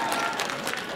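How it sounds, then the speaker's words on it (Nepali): A crowd at a Darjeeling festival comedy show breaks into quick, loud clapping, a short burst of applause lasting about a second. "जोरदार ताली त लाउनु पर्यो नि।"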